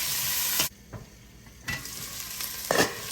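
Potato pieces frying in a tablespoon of butter in a pan, with loud sizzling broken by pauses while a utensil stirs and scrapes through them several times, close up and without talk.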